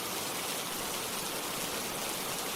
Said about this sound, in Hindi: अरे भैया, कहाँ जा रहे हो इतनी तेज बारिश में?